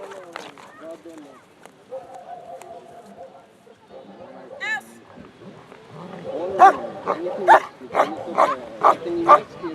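A German working dog barks in a repeated run of loud, close barks at a working-dog demonstration during a music festival, with whines and people talking nearby beforehand.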